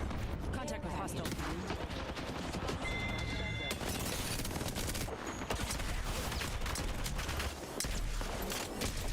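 Dense, rapid hip-fire gunshots in a shooter game crackle almost continuously for several seconds, loud and close, with brief gaps and voices talking underneath.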